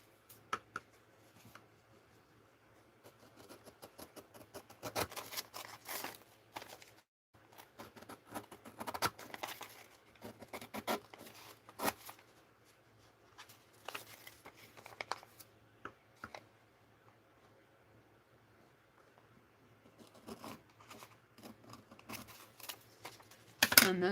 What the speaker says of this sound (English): Use the big scissors.